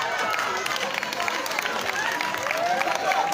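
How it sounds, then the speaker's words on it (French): Audience applause at a stand-up comedy night, a steady dense patter of clapping throughout with a voice calling out over it. "Applaudissez"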